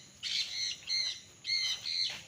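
Birds squawk and chirp on a farm with nipa huts, avocado, rambutan, mango and coconut trees in Liliw, Laguna, giving four bright, close calls in two pairs over a quiet outdoor background.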